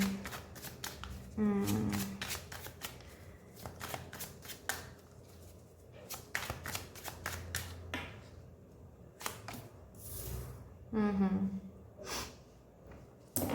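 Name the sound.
tarot cards being drawn and shuffled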